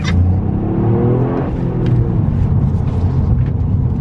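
A Toyota GR Yaris accelerating on a narrow country lane, its engine revving with a rising, loud rumbling whir from inside the car, steady and continuous with no talking.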